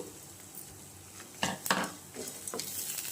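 Sesame seeds go into a pan of frying baby brinjal curry, followed by a few clattering stirs of a spoon against the pan over a soft sizzle, close by with no voices.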